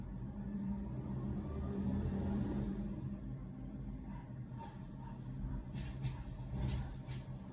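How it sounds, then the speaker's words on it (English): A garbage truck passes nearby with a loud, steady low rumble that swells and lingers for several seconds, then eases slightly as it moves on. "And trash truck's coming. Okay. That's very loud."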